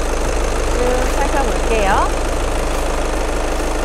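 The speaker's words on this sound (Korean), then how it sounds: "엔진 소리도 일정하네요" A sixth-generation Volkswagen Jetta 2.0 TDI diesel engine idles with an even, steady drone, heard up close in the open engine bay while someone speaks briefly over it.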